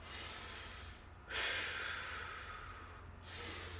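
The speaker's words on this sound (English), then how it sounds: "Big deep inhales, exhales." Deep, heavy breathing after a boxing HIIT workout, with long audible breaths drawn in and pushed out in a steady rhythm, close and fairly loud with no talking.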